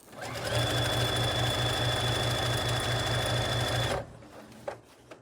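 A sewing machine stitches rapidly and steadily over the seams of pajama pants made from a thrifted shirt, a close even whirring buzz that stops abruptly, followed by a few small clicks.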